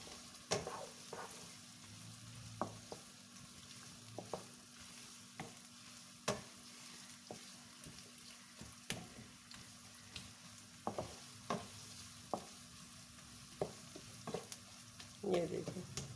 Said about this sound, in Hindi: ये देखो, इस तरह से इसे सॉफ्ट होने तक मैं इसे फ्राई कर लूँगी।